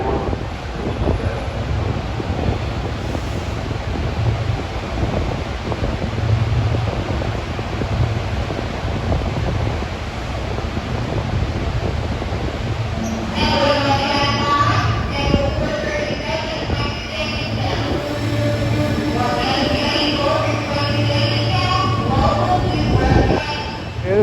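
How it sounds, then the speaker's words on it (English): A SEPTA West Trenton bound commuter train of Silverliner 5 cars passes close by with a steady, loud rumble and wind-like rush, joined midway by a bright metallic ringing of wheels on rail that holds to the end. "Here comes a West Trenton bound train with Silverliner 5s."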